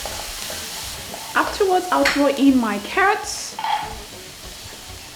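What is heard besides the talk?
stir frying minced garlic on high heat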